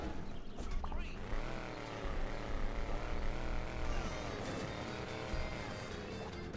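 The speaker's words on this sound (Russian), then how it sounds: "Опять вертушка здесь." A helicopter's rotor and engine drone steadily in Hill Climb Racing 2 over a dark road, with a buggy's engine running beneath, fairly soft and continuous while someone talks over it.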